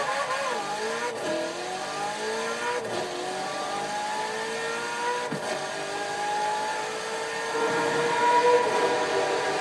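Ferrari 458 accelerating toward top speed in the Forza Horizon 4 video game, a high engine whine climbing in pitch through repeated gear changes, steady and fairly loud, without speech.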